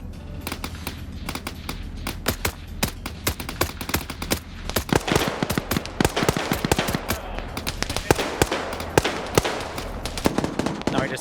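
Rapid bursts of automatic gunfire from AK rifles and heavy machine guns in a PvP war video game, dense overlapping volleys near and distant, with faint commentary voices underneath.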